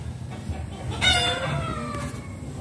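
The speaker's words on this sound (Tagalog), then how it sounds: "pakain muna tayo ng mga manok mga kagingging" Native Bisaya chickens being fed rice cluck and call close by, with one louder bird's cry rising in the middle over a soft background murmur.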